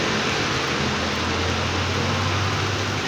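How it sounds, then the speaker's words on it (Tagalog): Rain falling steadily in a dense, even hiss with a low rumble underneath, close and continuous with no voices. "Patakan pa ng ulan."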